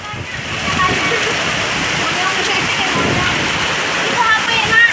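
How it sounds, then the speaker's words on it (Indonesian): Heavy ice hail pours down during a hailstorm in Bogor, a dense, constant clatter and hiss that swells slightly toward the end, with no talk over it. "Oh, hujan es. Hujan es."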